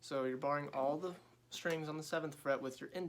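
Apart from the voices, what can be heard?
No everyday noises stand out.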